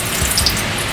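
Cooking oil poured into a very hot, smoking wok starts a loud, steady sizzle and crackle, close and unbroken for a second, with no talking over it.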